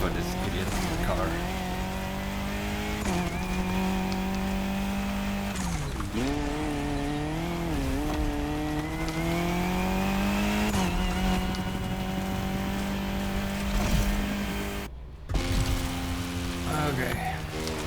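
A race car in a racing video game drives at sustained high revs, its engine pitch rising through the gears and dropping sharply at several downshifts, loud and continuous with tire noise.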